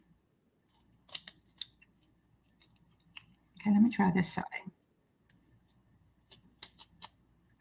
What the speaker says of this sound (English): Maybe my scissors aren't sharp enough.